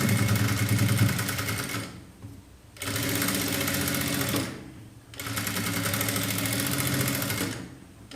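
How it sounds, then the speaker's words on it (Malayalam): Sewing machine double-stitching the side seam of a blouse, running in three steady, loud whirring bursts of rapid needle clatter, close by, separated by brief quiet pauses. "ഇത് ഡബിൾ സ്റ്റിച്ച് എടുത്തേക്കണം. അതേപോലെ ഇപ്പുറം സൈഡും തയ്ച്ചെടുക്കുക."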